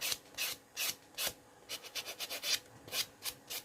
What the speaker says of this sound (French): je vais passer le polissoir